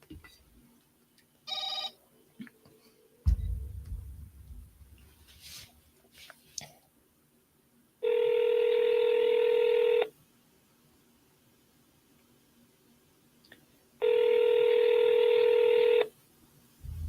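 An outgoing telephone call: a burst of keypad dial tones, then two long ringback tones spaced several seconds apart, clear and close, with quiet handling noise between them.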